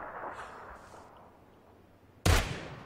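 A single sharp gunshot cracks near the end in PlayerUnknown's Battlegrounds, loud and sudden, after a stretch of quiet background noise.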